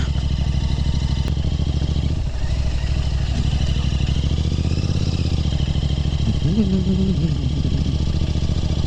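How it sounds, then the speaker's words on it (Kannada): Interceptor 650 motorcycle riding a rough Malnad-region road, its engine droning steadily and loud up close with rattling clatter over bumps and a brief rising rev near the end. "ಈ ಥರ ರೋಡ್ಸ್ಗೆಲ್ಲ ಇದು ಫಸ್ಟ್ ಟೈಮ್ ನನ್ನ ಬೈಕ್ ತೊಗೊಂಬಂದಿರೋದು"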